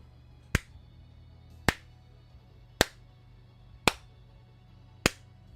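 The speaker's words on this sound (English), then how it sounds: "That's the sound of me slow clapping." Five evenly spaced, sharp claps about a second apart, crisp and isolated against a quiet background in a slow deliberate rhythm.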